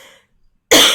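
A single sharp cough bursts out close to the microphone after a brief silence, following a faint trailing sound at the start.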